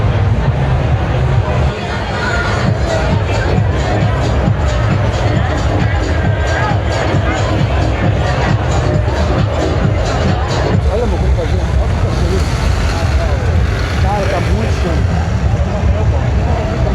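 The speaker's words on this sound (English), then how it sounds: "Look at this crowd," A large crowd at the Amsterdam Pride Parade fills the air with a dense, loud roar of voices and street noise, with people talking close by over it.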